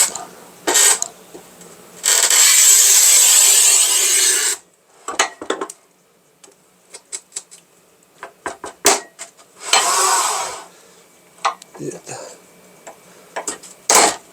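Manual tile cutter scoring and snapping thick, glossy 1200 mm porcelain tile: a long, steady rasping score stroke, then clicks and knocks, a second shorter scraping pass and scattered taps, close and fairly loud.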